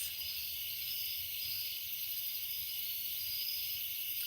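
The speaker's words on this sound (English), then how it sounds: "Listen to just the crickets." Crickets chirping outdoors at three in the morning, a dense, continuous high-pitched trill at steady low volume with no voices.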